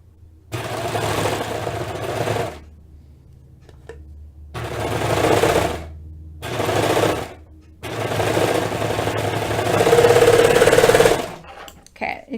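A home sewing machine runs a stretch stitch along a sweater seam in several bursts of steady whirring, each lasting one to three seconds with short pauses between, close and fairly loud.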